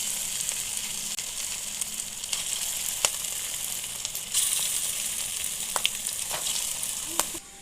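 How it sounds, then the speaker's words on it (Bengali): Chicken pakoras deep-frying in a batch of hot oil, a steady close sizzle with occasional sharp pops and a brief stir midway, no talking. "ঠিক একইভাবে সব পকোড়াগুলোই ভেজে নেব। আমি পকোড়াগুলো 3 ব্যাচে ভেজে নিচ্ছি।"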